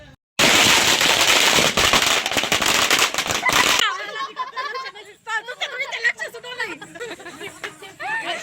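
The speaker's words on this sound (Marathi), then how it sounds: "इकडे दादारी मस्तपैकी फटाक्याची माळ पण लावतोय" A string of firecrackers bursts in a dense, loud, rapid crackle lasting a few seconds at a Bail Pola bullock festival celebration, then cuts off abruptly as people chatter and laugh nearby.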